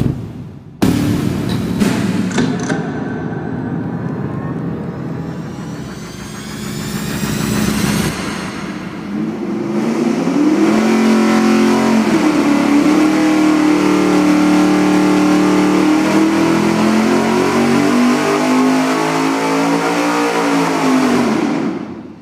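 An engine on a dyno, running open headers with 2.5-inch collector extensions as the baseline for a muffler shootout, idles briefly, then roars up through a loud, sustained full-throttle pull with a rising pitch that holds before easing off.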